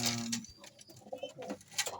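Breeding pigeons or doves cooing in their enclosure, soft throaty coos repeating close by among busy, rustling background noise.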